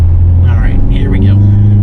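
A 2022 Mercedes-Benz GLA45 AMG in race mode pulls away with a deep, steady engine drone that rises only slightly, heard from inside the cabin under someone talking.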